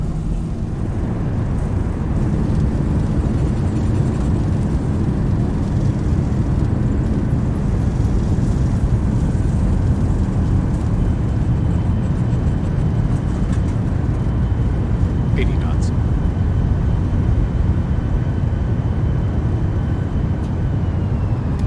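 An airliner's reverse thrust roars during landing in the X-Plane 11 flight simulator, arriving at Geneva in bad weather: a loud, steady, broadband rumble that holds unbroken throughout.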